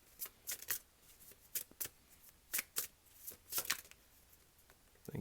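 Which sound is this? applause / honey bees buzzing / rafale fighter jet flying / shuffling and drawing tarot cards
shuffling and drawing tarot cards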